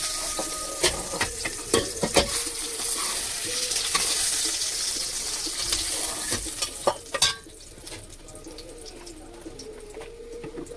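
Pieces of rohu fish sizzle in hot oil, a constant frying crackle broken by sharp utensil clicks and scrapes as the fish is turned and lifted out, with the sizzle dropping away near the end.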